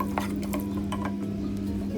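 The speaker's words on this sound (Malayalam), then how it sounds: "തക്കാളി ചേർത്ത് നന്നായിട്ടൊന്ന് മിക്സ് ചെയ്യാം." A spoon scrapes and clinks in a pot as chopped tomatoes are stirred into beef biryani masala, soft and steady with a low hum underneath.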